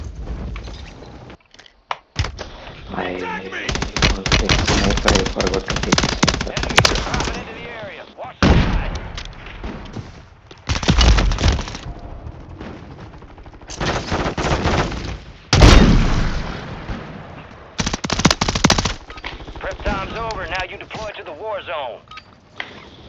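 Rapid bursts of SMG fire from the Wasp in Warzone 3 Plunder mode, loud and close, several sustained volleys separated by short gaps, with game effects mixed in.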